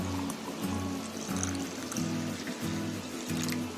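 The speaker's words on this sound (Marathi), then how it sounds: "त्याच्यावरती पाणी टाकायचं 1 ग्लास." Water poured from a glass onto spoonfuls of powder in another glass for a homemade summer drink, a steady close trickle and splash lasting a few seconds under soft background music.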